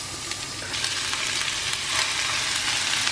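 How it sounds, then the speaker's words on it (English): Ground beef frying with garlic in a hot pan for a lasagna, a loud close sizzle with crackling that swells slightly as the meat settles, no voices. "So I'm tossing in the ground beef now."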